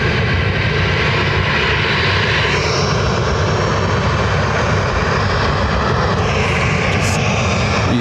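An easyJet Airbus A320neo arriving from Amsterdam at Lanzarote Airport produces a loud, continuous jet engine roar that holds steady throughout, with no voices.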